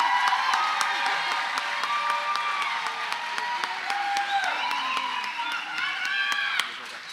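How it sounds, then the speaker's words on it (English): A pageant audience gives the contestants a sustained round of applause as they leave the stage, broad clapping mixed with crowd voices and a few cheers throughout, easing off at the very end. "Let's give these ladies one more round of applause before they leave the stage."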